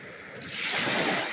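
Waves wash onto the beach at Whitefish Point, a close, steady rushing surf that swells louder over a second or so with no voices.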